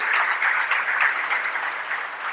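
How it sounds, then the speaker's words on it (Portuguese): A church congregation breaks into applause, a dense, steady burst of many hands clapping together, loud and even throughout with no voices over it. "Aplauda essa glória de Deus"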